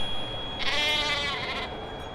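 A goat bleats once, a loud wavering cry lasting about a second over quiet background noise, with no talk.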